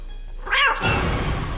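A black cat outside a window lets out a single drawn-out, wavering yowl, followed by a burst of broadband noise and a low hum.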